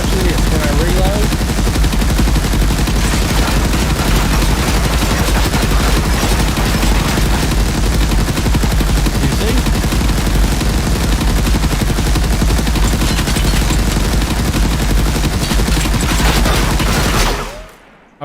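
Continuous automatic weapon fire from an Unreal Engine 4 game, a loud, dense barrage of rapid shots that runs unbroken for about seventeen seconds before cutting off abruptly.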